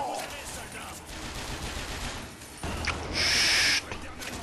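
Gunshots fired at a corpse in the video game BioShock Infinite, a dense burst of loud crackling gunfire up close, ending in a sharp high-pitched blast, over game noise.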